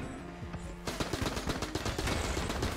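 Rapid gunfire in the game Enter the Gungeon, a loud dense burst of repeated shots starting abruptly and continuing steadily to the end, no talking.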